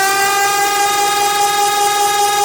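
A synthesizer patch whose coarse pitch is being modulated: a steady, loud, buzzy tone with many bright harmonics, sustained without a break for a couple of seconds and heard alone.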